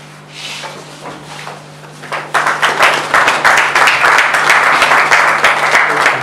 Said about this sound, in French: et sous vos applaudissements.